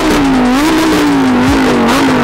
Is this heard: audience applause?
no